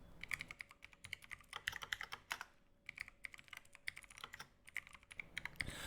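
Quiet, fast typing on a computer keyboard while writing a JavaScript file, with bursts of rapid clicky keystrokes and brief pauses, close by and alone.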